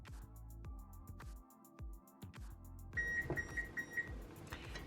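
A kitchen oven finishing its preheat to 450 degrees gives a short run of high electronic beeps, about five evenly spaced tones over a second, standing out against quieter kitchen clatter.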